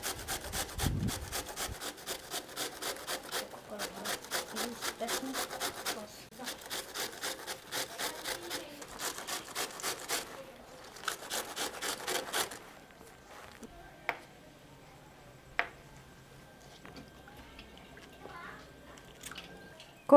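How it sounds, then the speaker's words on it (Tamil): Cabbage is grated by hand for cabbage manchurian, making steady rhythmic rasping strokes in repeated bursts for about twelve seconds before falling quiet, with only a few faint knocks and clicks after. "இந்த மாதிரி நம்ம துருவி எடுத்துக்கலாம்"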